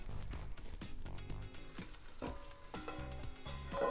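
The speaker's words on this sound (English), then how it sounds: "ultra melty, starting to fry up a little bit around the edges right there" A grilled cheese sandwich made with Wagyu tallow sizzles steadily in a pan, a faint continuous crackle and fry with soft scraping, no talk.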